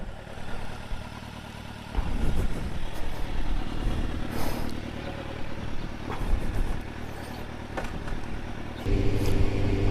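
A Kawasaki Z motorcycle engine runs steadily while riding slowly through a low-speed zone, a close continuous drone with mild throttle changes and a deeper rumble near the end.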